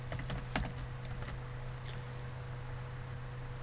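A spreadsheet formula being typed on a computer keyboard, with a quick cluster of faint key clicks and then a few sparse taps over a steady electrical hum.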